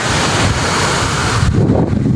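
Loud, steady wind blustering across the microphone, a broad rushing roar that dips slightly toward the end.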